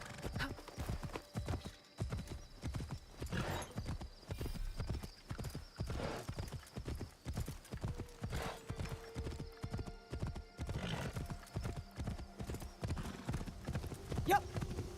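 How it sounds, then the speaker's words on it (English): Horse hooves clip-clop in steady, rapid rhythm throughout, close and fairly loud, with a brief neigh partway through, from a horse in the video game Assassin's Creed Shadows; faint game ambience sits underneath. "It's a horse."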